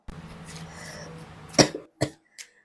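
Low background murmur gives way to a sharp, close cough, followed by two smaller coughs trailing off.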